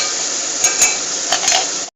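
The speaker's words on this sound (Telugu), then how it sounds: "నూనెలో ఈ విధంగా దీన్ని ఫ్రై చేయాలన్నమాట ఫ్రెండ్స్" Curry leaves, tomato and onions fry in oil in a pan, giving a steady sizzle broken by a few quick metal clinks from a spoon against the pan, then a sudden cut.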